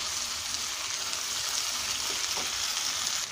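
Soy sauce going into Chinese mixed vegetables in a hot pan: a loud, even sizzle with a brief hiss midway, close and steady with no talk.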